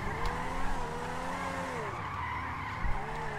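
A hard-to-control car in GTA 5 skids with a sustained tire squeal over a steady engine drone, loud and continuous with a brief bump near the end, no talking.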